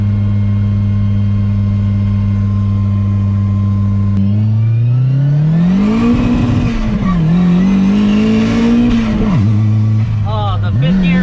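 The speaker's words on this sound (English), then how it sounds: "Try some drifting. Try a donut." A stock-turbo Miata tuned on E85 at 17 psi spins through a donut. It starts with a steady loud idle, then the engine revs up and swings in pitch with rising and falling surges, close and continuous.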